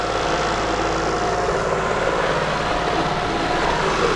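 A dinghy's outboard engine drones steadily and close at a constant pace on the water, a loud low continuous hum with no talking.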